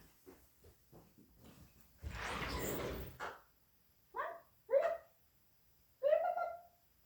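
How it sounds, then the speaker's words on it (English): A dog barks several times indoors at home, a few sharp medium-pitched barks and yips after a burst of rustling noise, fairly close and not very loud, with brief faint sounds between. "Got to get the dog back in."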